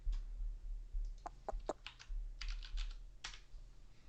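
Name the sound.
typing a flight route on a computer keyboard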